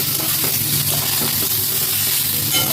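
Bitter gourd and potato frying with onion, salt and turmeric in hot oil, a loud, continuous close-up sizzle with faint stirring scrapes underneath.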